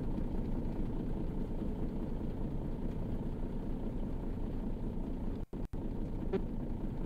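A truck engine idles steadily in the video game On The Road Truck Simulator, a constant mid-low drone with two brief dropouts near the end.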